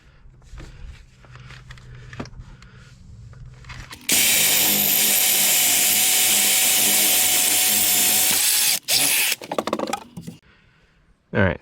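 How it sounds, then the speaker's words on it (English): A power drill whines loudly for several seconds driving a screw while building a deck gate, stopping briefly, then a few shorter bursts, with handling clatter and shuffling before it starts. "we'll go ahead and drill the rest of them and tighten everything up"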